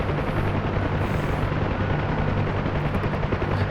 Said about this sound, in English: This flying the helos itself, and I love flying the helicopters.